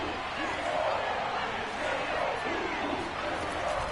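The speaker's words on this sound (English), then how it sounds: "The crowd getting into it as we come up on a big third down." Crowd cheering in a Madden football video game before a big third down, a steady broad roar that stays loud and even throughout without any clear peaks.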